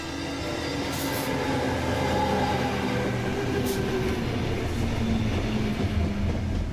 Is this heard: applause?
no